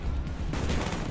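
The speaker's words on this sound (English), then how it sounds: "I'm getting shot from every direction" Gunfire from Call of Duty: Black Ops, a brief, dense rattle of shots blurring into a steady rough roar, loud and close.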